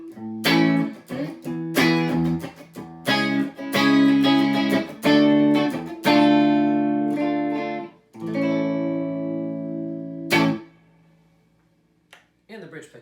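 Clean electric guitar on a 2019 Fender Limited Edition Cabronita Telecaster, middle pickup position, playing chords and single notes in a loose rhythm, fairly loud and close, ending with a long ringing chord that fades out.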